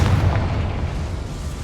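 A Confringo fire spell explosion in the video game Hogwarts Legacy, a brief, loud, deep booming roar that fills the moment and tails off slightly, heard alone.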